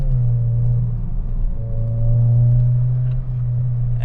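A light car's engine drones and hums steadily while driving on a back road, holding a sustained tone with slight dips and rises in pitch, close and loud, with no talking.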